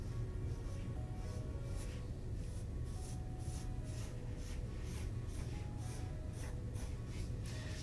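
A pen draws lines on pattern paper to join marked dots for a collar insert, giving faint close scratchy strokes that repeat in a steady rhythm over a low hum.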